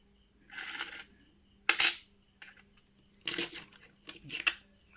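Old English two pence coins from a collection are handled and set down in a row, producing a few brief, separate clinks and rustles close by against a quiet background.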